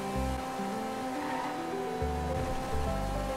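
Car engine revving and sliding through a drift in Grand Theft Auto, steady loud motor drone with shifting pitch and rising surges near the end, tire noise blended in, no voices.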